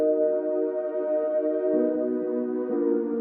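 A held synth chord in LMMS drenched in Calf reverb with shortened decay, moving through a couple of chord changes with a smooth, spacious but slightly tighter wash of sound.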